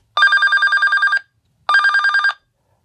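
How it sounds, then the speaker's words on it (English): A handheld VHF marine radio rings for an incoming DSC individual call, two loud, bright electronic trilling bursts, each about a second long with a rapid pulsing warble, separated by a short silence. "I want to transmit yes to my handheld. And that's transmitting, and it's ringing."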